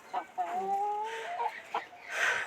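Silkie chickens, a white-feathered, black-fleshed breed from England, cluck and call near at hand in a backyard coop, giving several short rising and falling squawks over about two seconds with no talking.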